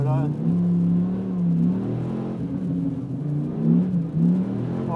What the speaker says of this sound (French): Allez le petit V10, c'est parti.